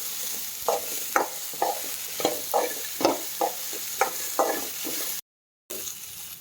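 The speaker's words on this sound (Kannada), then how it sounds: "ನಾನು ಮೆಣಸಿನ್ಕಾಯಿ ಹಾಕ್ತೇನೆ ರೀ, ಗುರೆಳ್ಳು ಹಾಕ್ತೇನೆ ರೀ. ಎಲ್ಲ ಸೇರಿನೂ ಹುರ್ಕೊಂಡ್ರಿ." Chillies and niger seeds roast in a pan for North Karnataka-style green tomato chutney, with about ten rhythmic scraping stirs over a steady, close sizzle and a brief silent gap near the end.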